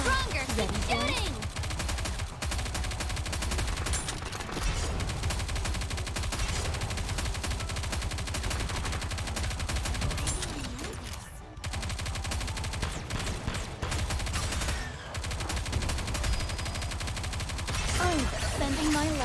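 Dense, sustained automatic gunfire in the game Nikke: Goddess of Victory, loud and continuous with rapid bursts, brief pauses and game effects, while voices call out over the battle.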